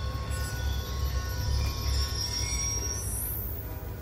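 Train rolling past in Call of Duty Black Ops 2, a steady low rumble of wagons with a faint high metallic wheel squeal rising near the end, heard alone at moderate volume.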